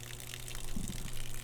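A mid-pressure 200 PSI pressure washer pump runs water through its line, giving a brief, steady rushing gush of flowing water with a low mechanical hum underneath.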